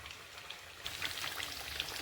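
Steady rain falls outside a gallery, a soft, distant patter of drops that grows slightly denser partway through, with no voices.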